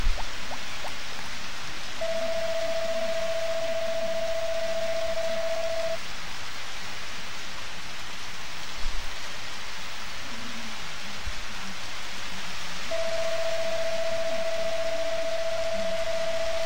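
Steady rain hisses across a farm in Harvest Moon: Back to Nature, an even, continuous patter with two long steady electronic tones laid over it.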